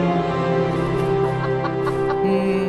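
A chicken clucks in the Evil Nun game over a steady droning, tonal background, with a few short clucks scattered through the middle and end.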